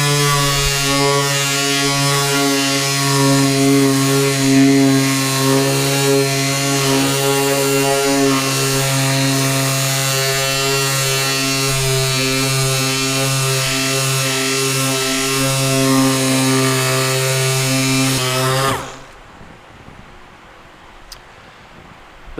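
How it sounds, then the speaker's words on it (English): Power sander with 80 grit sandpaper working over a car's failing clearcoat, a steady loud droning whir with strong harmonic hum, running continuously for about nineteen seconds before stopping abruptly into near silence. "I'm going to start working with the 80 grit."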